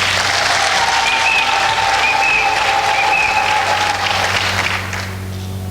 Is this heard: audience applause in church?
yes